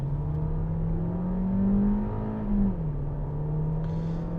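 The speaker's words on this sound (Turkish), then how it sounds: "Sport modunu aldım ve dip gaz yaptım arkadaşlar" A Seat Ateca FR SUV in sport mode accelerates at full throttle, its engine drone holding steady and close, rising slightly in pitch and then easing back.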